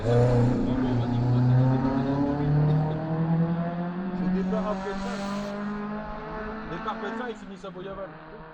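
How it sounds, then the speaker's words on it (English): Rally cars race past on a closed country road near Ypres, engines droning and rising as they pass close by, loud and continuous throughout. "I've come across a blocked road and there's a car rally on"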